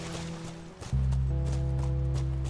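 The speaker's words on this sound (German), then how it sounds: "Braves Pferdchen." Horse hooves clip-clopping steadily in The Last of Us, a quick regular patter that grows louder after a second, set against a sustained tonal music bed.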